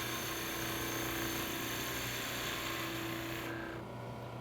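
A skew chisel makes a steady scraping, hissing cut against wood spinning on a lathe while turning a Christmas ornament, over a constant motor hum, close and continuous, easing off near the end.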